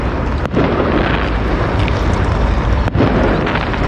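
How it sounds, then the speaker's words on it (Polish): Fireworks go off on New Year's Eve in Oslo, with dull booms and a couple of sharp bursts over a loud, continuous rumble of wind and crowd noise. "O, tam już zaczynają puszczać jakieś fajerwerki."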